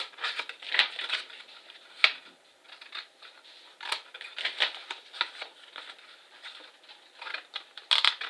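Scissors snip through vellum paper in a craft session, a run of quick crisp cuts and papery rustles, close by and irregular, without any voice.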